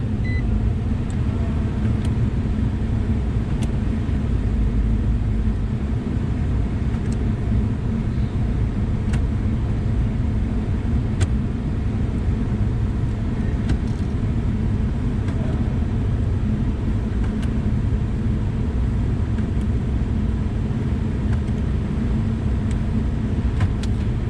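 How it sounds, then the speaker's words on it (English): A Nissan Xterra engine runs with a steady, low, even rumble, heard from nearby without clear changes in pitch, and a few faint clicks over the drone. "We'll start her up, run it through the gears."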